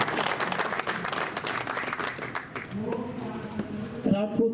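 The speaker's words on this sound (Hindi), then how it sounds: "एक बार पुनः इनके सम्मान के लिए जो है वो जोरदार तालियां।" Dense audience applause at a Rajput Sabha Chamba Dussehra weapon-worship (shastra pujan) gathering fills the first couple of seconds, then thins as a voice takes over.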